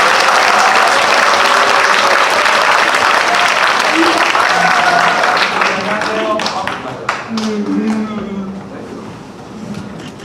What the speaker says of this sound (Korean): 큰 박수와 환호 부탁드립니다.